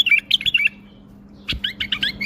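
A caged bulbul sings in two bursts of bright, quick chirping phrases separated by a short pause, close and clear, with a soft thump before the second burst.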